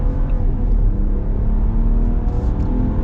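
A steady, low engine rumble with a throaty exhaust tone from a 2026 Ram pickup truck, holding at an even idle-like drone throughout.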